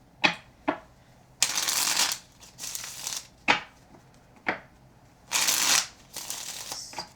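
Tarot cards being shuffled by hand, with a series of crisp riffling bursts and soft slides separated by brief pauses, loud and close, with no voices.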